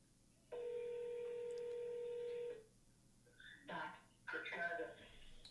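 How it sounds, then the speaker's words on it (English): A telephone rings once in a long steady tone on a wholesaling real estate call line, followed by brief bursts of voice and throat sounds as someone picks up. "Phone ringing"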